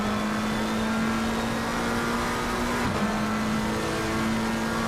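A race car in Assetto Corsa Competizione drones at steady throttle around Donington Park, a sustained engine hum with a slight dip and shift in pitch partway through, no voices.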